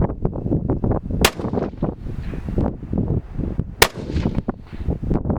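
A magnum rifle fitted with a muzzle brake fires outdoors, two sharp, loud cracks a few seconds apart over gusty wind and rustling handling noise.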